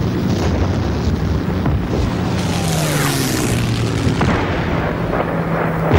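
A WWII artillery bombardment roars continuously in archive footage, with heavy rumbling explosions and the drone of aircraft overhead, loud and unbroken.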